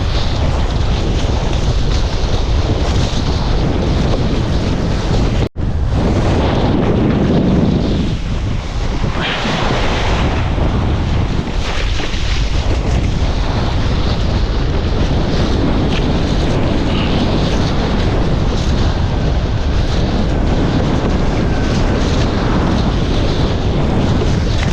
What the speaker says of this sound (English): the wind's good at this moment